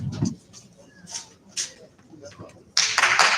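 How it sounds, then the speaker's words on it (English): An audience at an ESN Bulgaria student event in Varna gives a few scattered claps between a presenter's talk, then breaks into a loud, close burst of applause. "Thank you for the applause."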